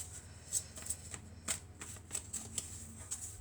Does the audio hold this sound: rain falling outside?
no